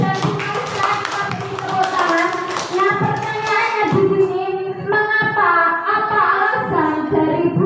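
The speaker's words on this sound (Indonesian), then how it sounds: "Tepuk tangan." An audience claps at a school presentation on positive classroom culture, with steady clapping running beneath continuous voices for the whole stretch.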